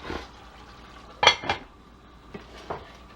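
A pot set onto a stove's back burner gives two sharp metallic clanks close by, followed by quieter scraping and handling noises in a kitchen.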